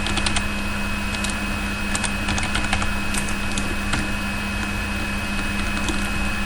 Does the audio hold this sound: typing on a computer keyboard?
yes